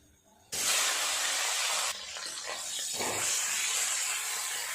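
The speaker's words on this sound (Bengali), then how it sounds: "মাছের মাথাটা বেশ বড় আছে উল্টে পাল্টে ভালো করে মাথাটা ভেজে নেব" A large fish head sizzles in hot oil in a home kitchen, a loud continuous hissing and spattering that bursts on suddenly, dips briefly, then carries on steadily with crackles.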